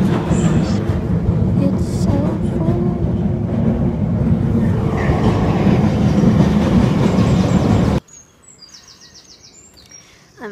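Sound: subway train riding

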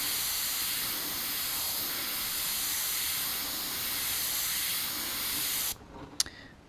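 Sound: airbrush spraying for painting fishing lures

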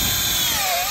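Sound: power drill drilling a hole into a tree stump

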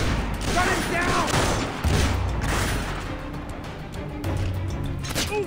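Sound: gunfire in the video game Splinter Cell: Conviction

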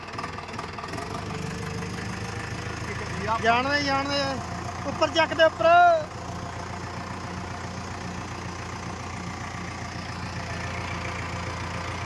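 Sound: tractor engine straining in a muddy puddled field

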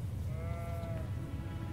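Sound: sheep bleating in Elden Ring video game

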